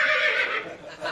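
A horse gives a single short, high-pitched whinny that wavers and trails off, fairly close.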